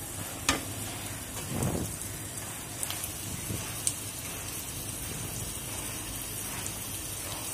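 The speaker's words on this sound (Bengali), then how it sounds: "কিছুক্ষণ নেড়ে নিচ্ছি।" Onions browning in a pan while being stirred for a Bangladeshi chewa fish dopeyaza, a steady rain-like frying hiss with a few soft scraping stirs and light clinks.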